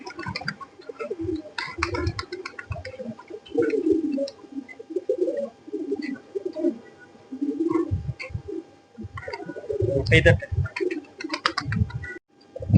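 Low, repeated cooing of pigeons close by, soft throaty phrases recurring irregularly, with a few faint chirps and rustles between them.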